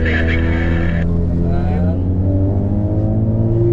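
A Honda Civic Type R FL5 engine revs hard and loud, a strong steady roar with rising harmonics as it climbs through VTEC, briefly accompanied by a high whine at the start, close and continuous throughout.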